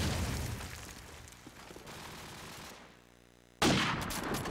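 Rapid gunfire bursts in a Call of Duty 4 match, dense rattling shots that drop to a quieter stretch and then return loud and abrupt near the end, with no talk.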